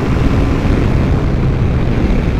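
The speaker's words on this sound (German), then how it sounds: "Gib noch mal ein bisschen Gas" A Honda CX 650 Turbo motorcycle engine is revved with the throttle, giving a dense, continuous, loud roar that holds steady with no pauses through the short clip.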